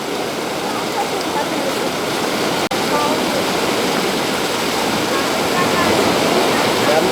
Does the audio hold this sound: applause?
no